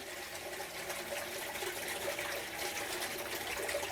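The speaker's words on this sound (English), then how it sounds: "Pull the bung out, that quickly fills up to the water level of the boat" Water gushes and rushes steadily into a boat's live bait tank after the bung is pulled, a constant filling sound at moderate level with no talking.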